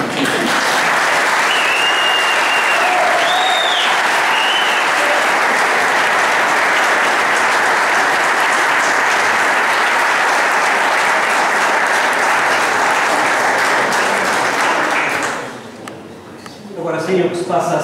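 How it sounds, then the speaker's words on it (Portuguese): A congregation applauds during a Catholic wedding in the parish church of Óis da Ribeira, a dense, loud and sustained wash of clapping that fades out near the end as talking resumes. "uma salva de palmas"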